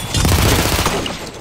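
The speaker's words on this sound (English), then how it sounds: "Shotgun." Shotgun blasts in a video game firefight, a dense burst of booming gunfire with overlapping shots, loud and close throughout the short moment with no talking.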